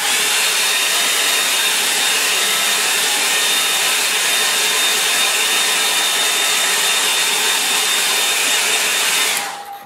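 A hair dryer dries the wet foreground of a watercolour lake painting, a loud, close, steady roaring whoosh with a thin whine that holds for nearly ten seconds before switching off abruptly.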